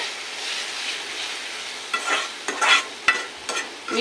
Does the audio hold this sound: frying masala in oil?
yes